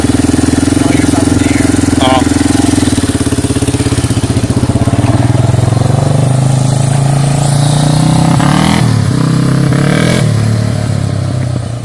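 A Yamaha Warrior 350cc quad engine revs loudly and close throughout, its rough idle climbing and falling through several throttle blips with a steady clattering rumble.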